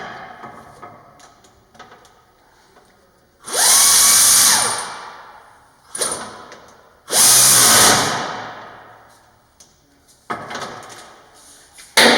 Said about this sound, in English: Go ahead and tighten down my pinch bolt.